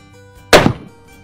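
A single sharp shot from a custom T/C Encore rifle called the Firehammer: one loud, abrupt crack that decays quickly over a fraction of a second, with no talk around it.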